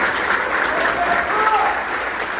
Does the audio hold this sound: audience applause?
yes